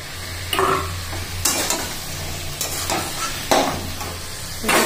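Potatoes and boiled banana flower stirred in a pan of cooked-down spices for a Bengali curry, a steady sizzle under repeated scraping stir strokes, close and alone.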